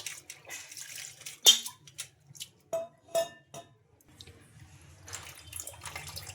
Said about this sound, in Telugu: ఇంకా ఈ అటుకుల్లోకి వాటర్ అయితే వేసుకుంటున్నాం